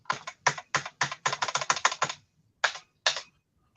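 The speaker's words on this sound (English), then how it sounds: "it's like the only key on this keyboard that doesn't seem to want to work right" Repeated presses on an Apple II keyboard with one stuck key: a steady run of about a dozen sharp clacks, then a pause and two more, close and loud with no talking.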